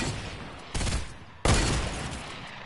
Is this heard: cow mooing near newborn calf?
no